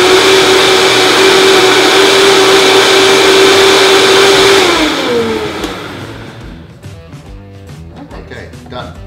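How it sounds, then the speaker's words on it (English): A blender whirs steadily at high speed through oats and yogurt pancake batter, then spins down and stops about halfway through, leaving clinks and light handling noises afterward. "All you gotta do is blend that up."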